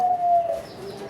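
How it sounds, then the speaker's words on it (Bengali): A black-and-white domestic pigeon gives a single soft, close coo, short and alone with no voices. "এটি হচ্ছে আরেক জোড়া আরেক জোড়া কালো সাদা গোল্লা কবুতর"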